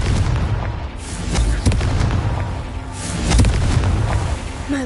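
A Confringo fire spell exploding in Hogwarts Legacy: dense, rumbling blasts and crackling bursts over a constant game soundscape, with heavier booms near the middle and end.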